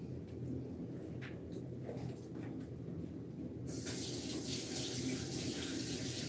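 A faucet runs while pepper skins are rinsed off, giving a soft continuous stream that turns into a louder, brighter gush of water partway through.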